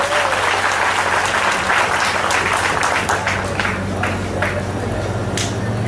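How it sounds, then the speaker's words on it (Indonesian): Audience applause fills a Christmas celebration at Surabaya Class 1 detention center, a dense, steady wash of many hands clapping, loud and sustained throughout. "Tepuk tangan dulu."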